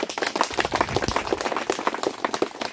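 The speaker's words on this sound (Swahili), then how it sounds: "Tujipongeze kwa makofi mengi sana." A crowd at a bridge project event in a packed hall claps together in a dense, steady burst of applause lasting a few seconds.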